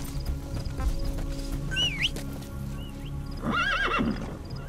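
D-Horse in Metal Gear Solid V whinnies in two clear calls, one brief and one longer and louder, over steady hoof clops, with faint ambient game sound beneath.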